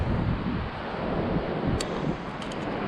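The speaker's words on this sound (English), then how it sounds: "Oh, it's so windy." Gusty wind at high altitude on the Everest Base Camp trek in winter buffets the microphone, a steady loud rushing roar with no voices.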